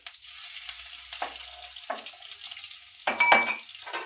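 Green chillies and garlic hit hot oil in a pan, giving a soft crackling sizzle. Several louder bursts of spitting hiss flare up as pieces are added, the last the strongest.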